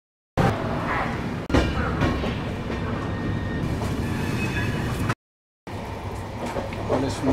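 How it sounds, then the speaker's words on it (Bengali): Rajdhani Express, the New Delhi–Howrah 12302, pulls out of Asansol station, heard from inside as a steady loud rumble of wheels and carriage noise with rattling bumps, broken by a brief cut to silence. "চলো, আমাদের ট্রেন আসানসোল স্টেশন থেকে এইমাত্র ছেড়ে দিল।"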